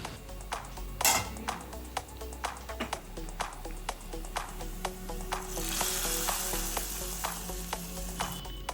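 Dried red chilies and curry leaves crackle and sizzle in hot oil for a Malabar prawn curry tempering, a steady fry broken by sharp pops and stirring clinks, louder splattering near the middle and end, with no talk.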